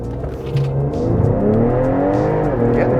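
A 2020 Ford Explorer ST with full bolt-on modifications accelerating hard with the rear tires slipping, a loud, close engine roar climbing steadily in pitch over a few seconds, with no voices.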